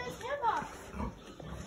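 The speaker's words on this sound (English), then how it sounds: "And down here are our kids' show pigs." Berkshire and Hampshire cross show pigs grunt and snuffle in a dim barn pen, low rough grunts with a squealing note, close by and overlapping in a busy mix.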